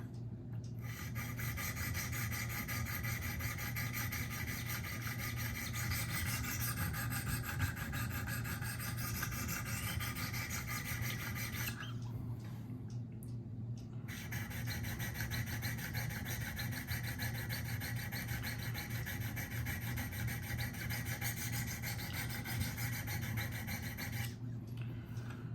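Spyderco Para 3 knife of hard M4 steel being sharpened on the high-grit stones of a Wicked Edge system, a steady close rasping stroke that runs continuously with two brief pauses, no talking.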